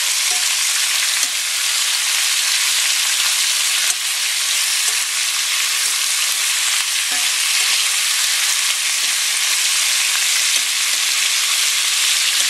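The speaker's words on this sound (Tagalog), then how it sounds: "Okay, prituhin lang natin hanggang maging medyo light brown." Pork and ribs frying in a pan for pochero, a loud, steady sizzle with occasional stirring scrapes, continuous and close with no talking.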